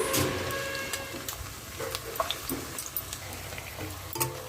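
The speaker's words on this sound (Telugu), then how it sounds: "ఇప్పుడు ఉల్లిపాయలు వేసుకుందాము పచ్చిమిర్చి సరిపడా" Onions and green chillies fry in hot oil for a cauliflower tomato curry, a moderate sizzle under repeated scraping and tapping of a spoon against the pan, fairly close and uneven in rhythm.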